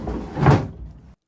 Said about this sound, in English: Now for the big test to see if the drawers slide in nicely and sit in the frame